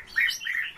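Bohemian waxwing chirping, a few thin high trilling calls in quick succession, clear and close against a quiet background.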